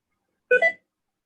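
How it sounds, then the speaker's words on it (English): Short electronic beep from QuickBooks accounting software right after something is saved, a single brief two-part tone standing alone in silence. "You must have saved something. That's why it made a beep."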